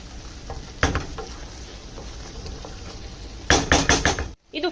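Capsicum, onion and paneer fry in butter in a pan as they are stirred. A soft sizzle runs under scattered scraping knocks, ending in a quick cluster of loud clatters against the pan.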